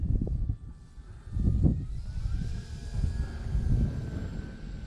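An E-flite T-28 RC model airplane with its propeller engine droning steadily nearby as it comes in to land on grass, the motor tone swelling and easing, with no talk.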